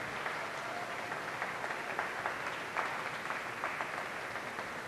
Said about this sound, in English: let's give a round of applause again